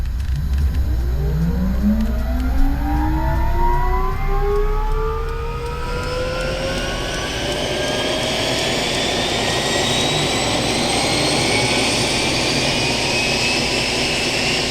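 A Bell Cobra helicopter turbine spooling up on start, a loud rising whine climbing steadily in pitch over a deep rumbling roar, then settling into a sustained high howl close by, no voices.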